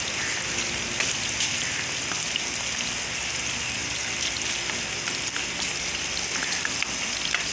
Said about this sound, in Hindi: हमने इनको फ्राई करना है।